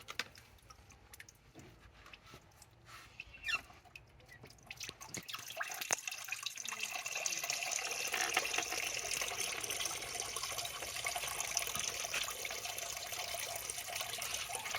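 Liquid poured from a small bucket at a wax press makes a faint trickle and dribble, starting with scattered drips and light clinks, then building into a steadier soft flow.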